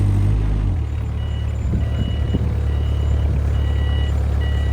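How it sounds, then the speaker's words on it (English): A Wolf Mini 780H wheel loader raises 2,400 pounds just off the ground on its front and drives, its engine a loud, steady close drone with a faint repeating high beep riding over it, no voices. "He's gonna lift the weight just slightly off the ground, and then we'll watch him drive."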